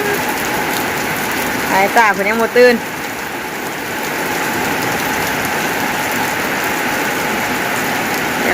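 Heavy rain falls steadily on surfaces in a rural village, making a continuous loud patter and hiss, with a brief voice speaking partway through.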